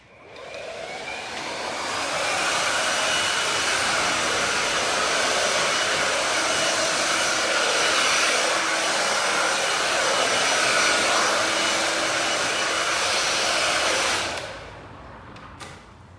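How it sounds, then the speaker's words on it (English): A hair dryer blows loose cut hair off a man during a long men's haircut, a steady loud whoosh that runs about fourteen seconds before cutting off abruptly. "let me just blow all the hair off"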